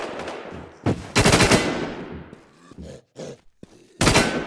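Automatic gunfire in the video game Infestation comes in close, loud bursts, a long rattling volley followed by shorter sporadic shots separated by brief pauses.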